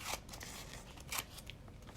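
Scissors snip through water soluble paper to trim off an edge, with a few quiet, close crisp cuts in quick succession.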